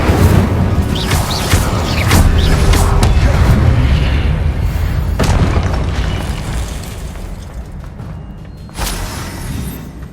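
Incendio fire spells in Hogwarts Legacy erupt in repeated booming, crackling bursts over a dense rumble, with a final loud blast near the end and no voices.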